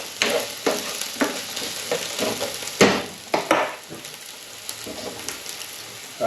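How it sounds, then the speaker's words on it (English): Eggs being stirred in a sizzling pan for mini frittatas, a string of sharp scraping stir strokes over a steady light frying hiss, close and clear with no voices. "That's the eggs in there. Let's give these a little bit of a stir."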